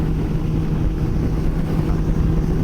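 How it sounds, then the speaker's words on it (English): Steady low motorcycle engine drone with constant wind and road roar, a continuous dense rumble cruising at about 85 to 90 mph on an interstate in Wyoming, with no pauses. "this motorcycle will cruise at 85"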